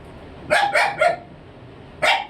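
Several dogs at an animal shelter give three quick close barks in a row, then a single bark after a short pause, loud against a quiet background.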